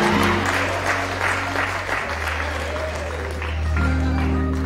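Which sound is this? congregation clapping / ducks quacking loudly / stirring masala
congregation clapping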